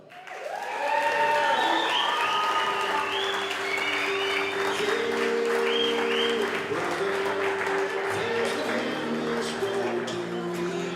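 Wedding guests applaud and cheer to welcome a brother of the groom up for his speech, dense clapping with whoops rising and holding steady, close and loud throughout.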